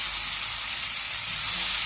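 Ridge gourd pieces sizzle steadily in a hot pan, a continuous bright hiss with no breaks and no talking.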